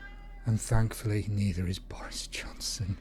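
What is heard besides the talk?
pet cat meowing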